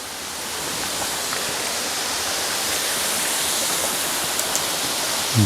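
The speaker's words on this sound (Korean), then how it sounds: "아, 이 절구폭포 멋있네요." Jeolgu Falls in Juwangsan, Cheongsong, pours in a steady, dense rush of falling water, loud and unbroken throughout with no voices.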